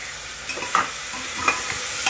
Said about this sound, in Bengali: এবার একটু গ্যাসটা বাড়ালাম, রসুনটা আর একটু ভাজা ভাজা করবো।